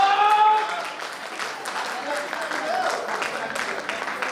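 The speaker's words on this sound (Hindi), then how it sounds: "एक जोरदार ताली बजाइए अभय सर के लिए" A crowd at a direct-selling training meeting claps steadily in dense, sustained applause, with a voice briefly heard over it at the start.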